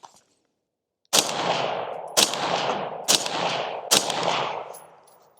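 Four loud suppressed rifle shots from a 13.9-inch barrel with a K can firing standard .223 ammo, spaced about a second apart, each a sharp crack trailing into a long echoing decay outdoors.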